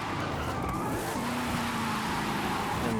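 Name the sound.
car drifting with handbrake in Forza Horizon 5 video game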